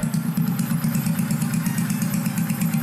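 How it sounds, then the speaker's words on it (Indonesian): A motorcycle fitted with an aftermarket underbody exhaust idles close by, a steady low throbbing rumble with a fast, even pulse and no voices. "Knalpotnya enak banget ini."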